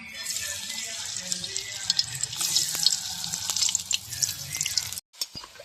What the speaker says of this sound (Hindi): तो चलिए अभी हम केला को तेल में जो है छान लेते हैं।